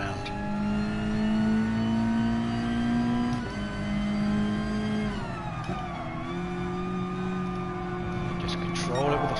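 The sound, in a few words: car engine revving in video game GT Sport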